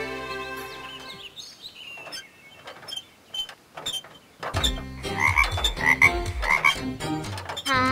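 A cartoon frog trapped in a well croaks repeatedly, its loud, resonant calls joined by chirpy bird-like tones over background music, growing busier and louder in the second half.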